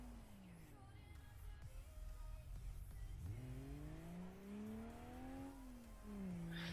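A 2.4-litre six-cylinder car engine in the BeamNG.drive driving game strains uphill, its tone droning low then climbing and rising as it revs under load, fairly quiet and continuous with no speech.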